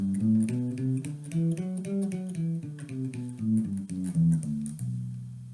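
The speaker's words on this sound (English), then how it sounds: "I'm going to play you position 4 from F, which sounds like this." Bass guitar runs through a position 4 scale starting from F, plucked notes stepping up and back down in a steady rhythm, soft and close with no voices.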